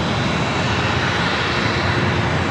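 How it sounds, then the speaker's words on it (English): Alaska Airlines jet arriving at San Diego from Portland, a loud, steady broadband engine roar filling the short stretch without a break. "We have a Alaska flight coming in from Portland next arrival."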